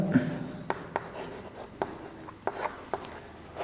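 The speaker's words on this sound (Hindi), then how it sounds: "अब लिखता हूं मैं" Chalk or marker writing on a board during a physics lesson, with soft scratchy strokes and sharp taps at irregular intervals, quiet and close, with no talking.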